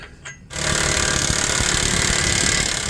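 An impact gun hammers loose a 32 mm axle nut on a 2015 Ford Explorer, starting after a half second of quiet and then rattling loud and continuous at close range.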